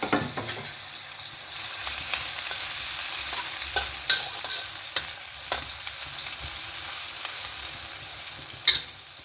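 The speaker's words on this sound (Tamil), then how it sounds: "ஒரு பெரிய வெங்காயம், கொஞ்சம் வதங்கட்டும்." A large onion sautés in a pan for a budget mi goreng, giving a steady close sizzle for the whole stretch, with scattered scrapes and stirring knocks and one sharper clink near the end.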